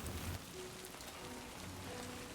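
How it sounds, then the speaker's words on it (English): Heavy rain in the video game Death Stranding 2, a dense steady hiss of drops pelting surfaces, constant and enveloping with no voices. "when the rain is hitting us so hard"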